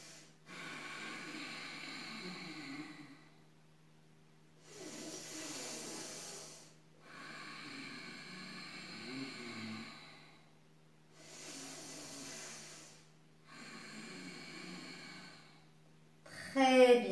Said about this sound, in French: Et nous allons procéder à 3 grandes respirations